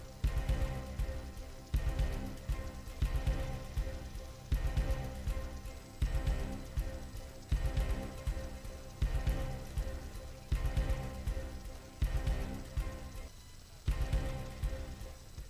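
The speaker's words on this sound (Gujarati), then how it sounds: "જૂનાગઢના માળિયાહાટીનામાં ધોધમાર વરસાદ પડી રહ્યો છે" Heavy downpour in Maliya Hatina, Junagadh, a steady close hiss of rain on surfaces with a soft repeating rhythmic pattern throughout, no voices.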